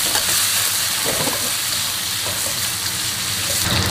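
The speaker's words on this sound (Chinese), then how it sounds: "接着加入香料，有姜片、葱段、八角、桂皮、香叶，炒出香味，泼入黄酒，呛出香味，" Pork stir-frying in a wok with ginger slices, scallion, star anise, cinnamon and bay leaves after a splash of yellow rice wine, giving a loud, steady sizzle with faint stirring scrapes throughout and no talk.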